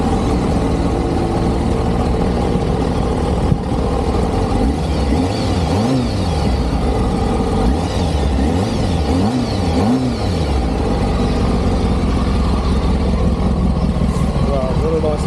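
A Kawasaki ZX9R motorcycle engine idling and revving nearby, with repeated rising and falling throttle blips over a constant low rumble, as people talk over it.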